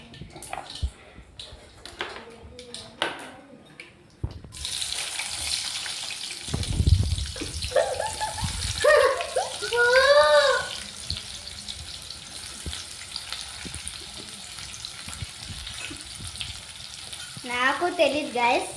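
Onions tossed into hot oil for a tempering in a home kitchen, starting with a few quiet clinks, then a sudden loud, steady sizzle of frying with stirring, interrupted by brief bits of speech.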